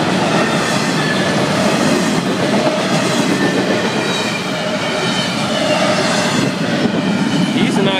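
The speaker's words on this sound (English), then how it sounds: "Little Armadillo is under the tracks while the train's passing over him." An FEC freight train of flatcars and empty well cars rolls over the tracks close overhead, giving a loud, continuous rumble and roar with clattering wheels and faint squeals, and no voices.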